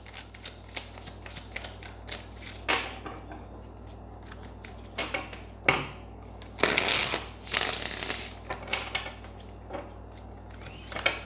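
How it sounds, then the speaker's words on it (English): Tarot cards shuffled in a few bursts of crisp riffling and soft flicking, close by, with quiet taps between and no talking. "Two shuffles."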